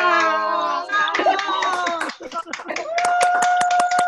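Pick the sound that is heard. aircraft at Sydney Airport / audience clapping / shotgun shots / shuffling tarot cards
audience clapping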